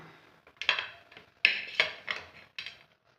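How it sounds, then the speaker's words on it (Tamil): Several sharp knife strokes on a cutting board as food is cut into long strips, irregularly spaced, close and fairly loud with quiet gaps between cuts. "நல்லா நீள நீளமாக இப்படி நறுக்கிக்கலாம்"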